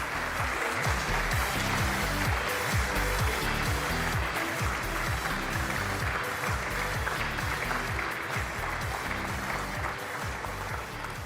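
Audience at the European Charlemagne Youth Prize ceremony in Aachen applauding the presenters, a steady, sustained roar of many hands clapping throughout, loud and dense with no talk over it.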